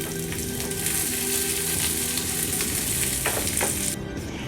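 Chicken seasoned with salt and pepper fries in a pan, a loud, steady close sizzle with scraping and clinking of stirring throughout, no voices.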